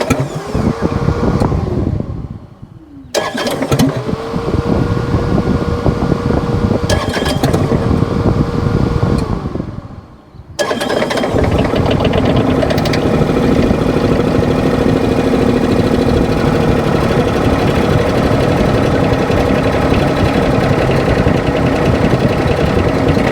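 A Bobcat MT100 mini track loader engine cranks over several times with short gaps, then catches and settles into a steady, loud, continuous idle.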